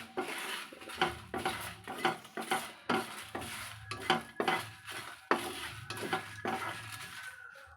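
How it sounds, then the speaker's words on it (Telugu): A spoon repeatedly scrapes and clinks against a pan while masala for chicken fry sizzles, making steady rhythmic stirring strokes close up under a soft continuous frying hiss. "ఇవన్నీ వేపుతాం కదా."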